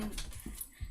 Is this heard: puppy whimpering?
yes